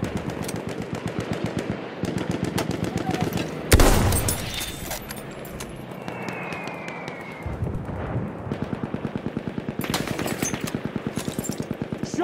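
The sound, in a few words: machine gun fire in video game Battlefield 1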